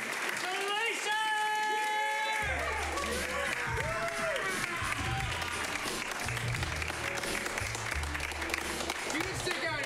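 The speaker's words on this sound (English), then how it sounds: "Let's start a good clap going" An audience claps and cheers as a team comes out at a live show. Loud shouts and whoops rise over steady, close clapping, and there is a low rumble underneath.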